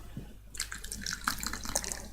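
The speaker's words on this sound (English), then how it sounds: "So we can see here the water is circulated." Water circulates through the cooling system of an oil sludge pyrolysis plant, a steady splashing trickle that starts abruptly after a quiet moment and continues with irregular gurgles.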